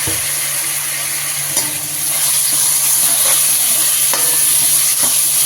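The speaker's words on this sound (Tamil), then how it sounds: "சோம்பு வெடித்ததுக்கப்புறமேட்டு வெங்காயம் போட்டு வதக்கினதுக்கப்புறமேட்டு தக்காளி சேர்த்துக்கலாம்." Onions and tomato fry in a pan with fennel seeds for noodles, a loud, steady sizzle close by, broken by occasional scrapes of a stirring spoon.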